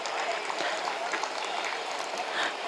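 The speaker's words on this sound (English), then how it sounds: "Please give him a round of applause" Applause from the audience at a literary festival, greeting a storyteller as he takes the stage: a steady, fairly quiet patter of many hands that holds even for the whole stretch and stays somewhat distant.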